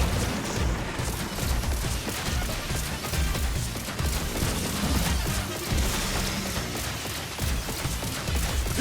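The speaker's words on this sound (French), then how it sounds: "Tirer sur les bacs de salsa provoque une grosse explosion" Loud, dense barrage of booms and crashing impacts rolls on without pause, a chaotic Skylanders Imaginators blast sequence from shot salsa tubs filling the whole stretch.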